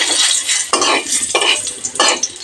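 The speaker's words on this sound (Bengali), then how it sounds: "তেলের উপর দুটো তেজপাতা অ্যাড করে দিচ্ছি" Two bay leaves sizzle in hot mustard oil in a pan for Bengali rui fish curry, a bright frying hiss broken by several scraping stirs of a utensil against the pan.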